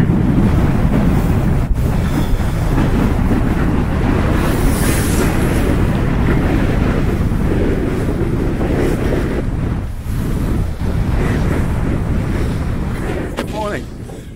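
Strong, relentless wind roars and buffets against a tent's fabric at a wild campsite on Dartmoor, a constant loud rumble with gusts thudding close to the microphone throughout.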